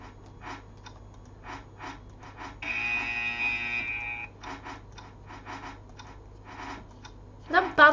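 A steady electronic buzzer tone from the Roblox Squid Game video game sounds for about two seconds in the middle, a moderately loud drone between intermittent game noises and brief breathy sounds.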